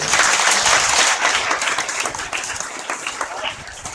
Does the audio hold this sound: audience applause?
yes